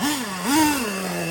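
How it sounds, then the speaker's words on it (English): Nitro engine of a Traxxas Slayer RC truck running alone, a buzzing two-stroke drone that swells briefly in pitch midway like a quick rev, then settles back to a steady idle, loud and close. "So, I got the engine to run pretty good."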